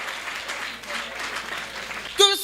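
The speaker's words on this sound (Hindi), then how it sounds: "तालियां कमजोर बजा रहे हो आप," At a Hindi poetry gathering, an audience gives a brief, fairly soft round of clapping before a voice cuts in at the end.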